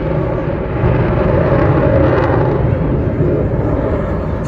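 A Typhoon jet flying an aerobatic display at an air show, heard as a loud, continuous broadband engine roar that holds steady throughout without talk.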